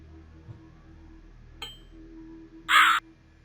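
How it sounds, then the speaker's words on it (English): Crow caws in the Rusty Lake Hotel puzzle game's forest scene: a faint short caw followed by a louder, harsh caw near the end, over a low quiet ambience. "Find the crows and tap on them."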